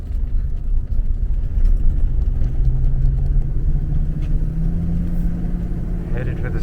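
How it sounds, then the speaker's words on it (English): A car rolls along a road with a steady low rumble and muffled engine drone heard from inside the cabin, moderately loud and continuous, with a voice briefly over it. "In the car and the truck, moving down Winberry."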